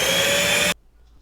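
Vacuum cleaner running with a loud, steady whine and hum, then cutting off abruptly into near silence.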